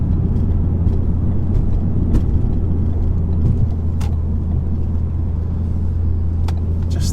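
A 2016 Ford Focus ST-3 diesel, front-wheel drive, makes a steady, loud low engine and road rumble from inside the cabin while driving, unbroken for the whole stretch with no talking.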